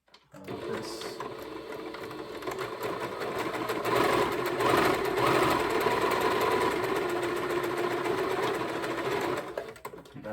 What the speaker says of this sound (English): I'm going to actually use this opportunity to sew the top across